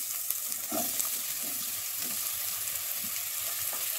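Onion, cardamom and fennel fry in hot oil for mushroom pulao, giving a close, steady sizzle broken by a few soft scrapes and stirring sounds, with no talking.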